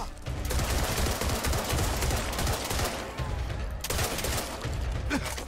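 Loud, continuous gunfire in Back 4 Blood, with a shotgun among dense overlapping blasts and rapid shots filling the whole stretch with little letup.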